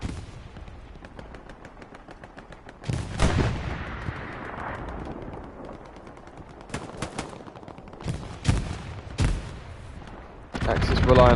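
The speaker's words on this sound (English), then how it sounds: "Oh, big strafing run." Strafing-run gunfire in Hell Let Loose, sharp loud bursts and booms at irregular intervals over battlefield rumble, with a voice talking between the shots.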